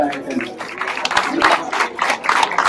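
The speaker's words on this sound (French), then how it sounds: "On peut applaudir le président du foot." Applause at a Breton wedding ceremony in Saint-Guyomard for the football club president, a crowd clapping in uneven waves with voices mixed in.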